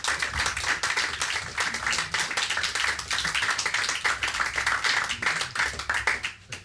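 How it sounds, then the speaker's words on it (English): A small crowd at a live film screening event in Margate claps together, a brisk, even patter of many hands carrying on for several seconds at moderate volume before tapering at the end. "Give him a big round of applause."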